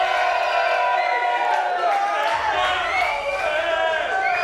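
A studio crowd at a live esports event, the Old School RuneScape Deadman finals, cheers and whoops loudly throughout with continuous excited voices and some clapping.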